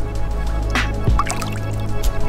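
A bass is let back into the lake beside a fishing boat, with a few close drips and small watery splashes over a low steady boat hum, no voices.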